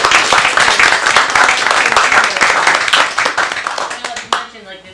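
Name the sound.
clapping at a city council meeting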